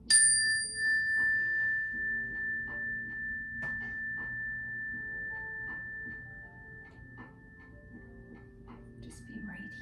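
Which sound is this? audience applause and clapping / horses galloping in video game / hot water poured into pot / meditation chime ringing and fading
meditation chime ringing and fading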